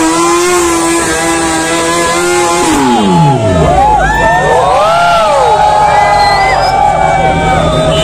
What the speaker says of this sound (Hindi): भाई सामने साउंड देखा क्या साउंड था बाइक का एक नंबर